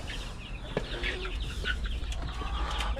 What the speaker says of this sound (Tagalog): Dito rin yung ibang mga manok ko